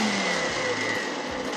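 A blender running with no liquid inside, its motor straining in a loud, steady whir with a slight wavering pitch, close up and continuous with no talking.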